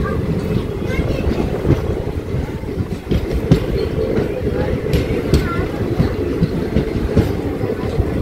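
The Charlapalli–Tirupati special train rolls along at speed, a loud, continuous rumble with rhythmic clickety-clack of wheels over rail joints, heard from on board with a few faint voices in the background.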